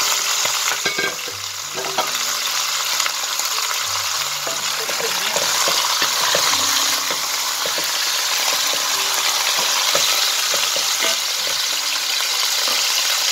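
Farm chicken frying in a pan, a loud continuous sizzle and crackle that fills the whole stretch, close up, with faint clicks and low clatter of the pan underneath and no talking.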